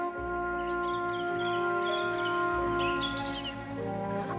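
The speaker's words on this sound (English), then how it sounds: "I heard a thrush singing most sweetly in the big beech tree at the top of Kyneton Lane." A thrush sings sweetly from a big beech tree at the top of a country lane, its bright phrases recurring through a steady background hum.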